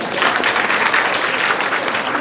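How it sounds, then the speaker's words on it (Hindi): A class of students claps for themselves during a Sanskrit number lesson, a loud, sustained burst of dense applause filling the room. "अपने लिए ताली बजाओ।"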